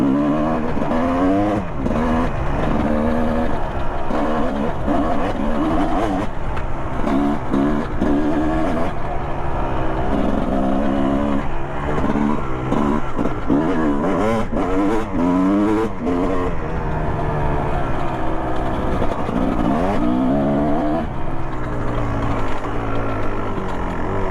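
A Kawasaki KX 250 dirt bike engine revs hard and continuously while being ridden, pitch rising and falling through gear changes with a loud, close, rasping two-stroke-style tone.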